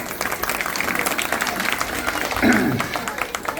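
Audience applause at a women's ukhane competition during a sports festival, a dense steady wash of clapping with crowd murmur and a voice rising briefly near the end.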